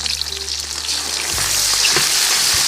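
Soybean oil sizzles hard in a wok as ginger, scallion, garlic and bean paste are stir-fried, a loud continuous hiss broken by a few scraping stirs of the spatula.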